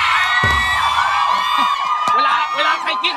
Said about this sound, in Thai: ขอเสียงกรี๊ด